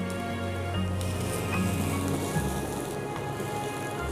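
Onions frying in a pan for a chilly chana dish, a steady dense sizzle and crackle heard close and alone, moderately loud and unbroken.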